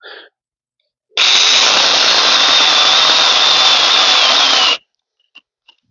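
A small AliExpress battery mini chainsaw whines loudly and steadily for a few seconds while biting into wood, its pitch sagging slightly under load before its overload protection cuts it off.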